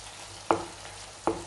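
Prawns being mixed in a hot pan: a low, steady sizzle close by, broken by two sharp scraping clacks of a spoon against the pan about a second apart, with no one speaking.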